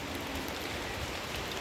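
Rain falling, a dense, even hiss of drops on surfaces, steady and moderately faint throughout the short stretch, with no voices.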